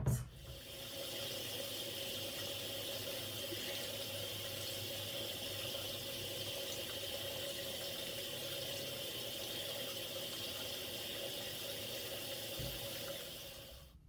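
Steady broadband rush of tap water running continuously while hair is rinsed, even and unbroken throughout with no talking.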